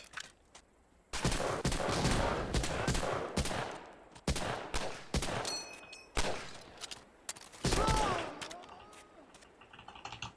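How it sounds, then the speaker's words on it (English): Grenades bursting in a World War II shooter game, Medal of Honor: Allied Assault: a run of heavy, sharp blasts with crackling gunfire between them, the loudest hits arriving near the start and again late, all close and dense. "So I throw a bunch of grenades to hopefully ease my life"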